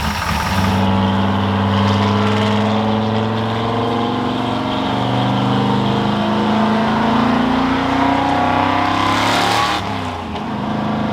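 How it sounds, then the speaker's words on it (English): A car engine runs loud and close while driving, its tone rising and falling through gear changes and revs. "let this thing warm up, take it around the block"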